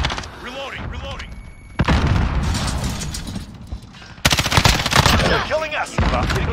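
Rapid automatic gunfire from Call of Duty Modern Warfare comes in loud bursts, with sharp onsets at several points and in-game sounds between them, while a player talks over the action.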